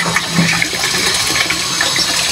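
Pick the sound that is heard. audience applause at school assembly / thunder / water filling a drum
water filling a drum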